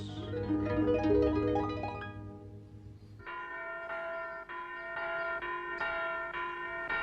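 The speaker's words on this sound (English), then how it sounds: "There goes the school bell." A school bell rings in a children's animated herb-garden story, a bright, resonant metallic chiming that repeats steadily for several seconds with no talk.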